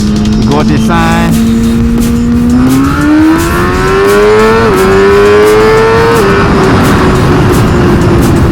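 A Suzuki GSX-R1000R sportbike engine accelerates hard through the gears, its loud close whine climbing in pitch with brief drops at each shift, over a constant roar of wind and road noise.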